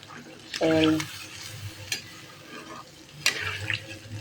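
Water going into an elephant foot yam curry whose spices have just been fried, heard as splashes and scraping stirs with a soft sizzle in the pan, with a brief voice near the start.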